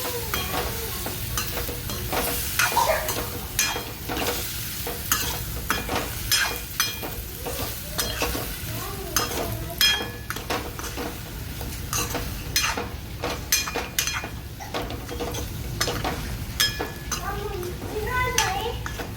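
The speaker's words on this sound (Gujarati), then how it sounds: "સરસ બધું મિક્સ કરી લઈએ" A spoon or spatula stirs and scrapes food frying in a pan, with steady sizzling and repeated clinks against the metal, while a voice speaks intermittently over the cooking.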